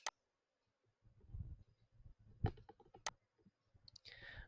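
A few sharp computer mouse clicks while saving a Word document, isolated and crisp against a quiet room with faint soft handling noise between them.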